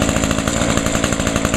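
A small two-stroke engine is held at high revs to burn off carbon, a loud, raspy, pulsing buzz close to the microphone that stays constant throughout.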